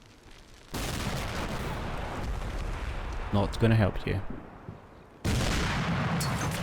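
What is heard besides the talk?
Bradley 25mm cannon fire in video game Combat Mission: Cold War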